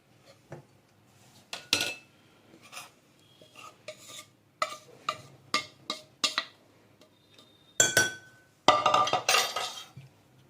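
Scattered clinks and scrapes of a spatula against a bowl as orange cake batter is stirred, irregular taps growing busier toward the end, close and moderately quiet.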